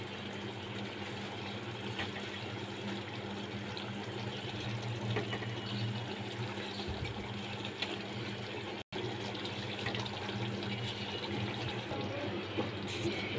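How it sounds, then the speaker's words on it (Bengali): Water pours steadily into a pan of doi katla, a Bengali fish curry of katla fish in a yogurt and spice gravy, as a continuous, fairly loud trickling wash that runs without a break. "এবার এর মধ্যে একটু সামান্য জল অ্যাড করব।"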